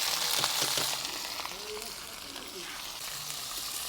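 Green chillies fry in hot oil with fried, crushed garlic, a steady broadband hiss and sizzle close by, louder at first and then settling, with faint bubbling underneath.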